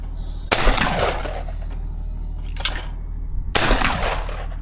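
An English hammer shotgun fires at clay targets outdoors: two loud, sharp blasts about three seconds apart, each trailing off in a short echo, with a fainter crack between them.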